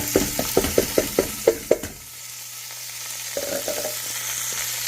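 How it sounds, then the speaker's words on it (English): A run of quick scraping stirs through sausage, onions and canned greens frying in oil, close and rhythmic for about two seconds, then a steady soft sizzle with a brief clatter of the spoon near the end. "Give it a little bit of a stir"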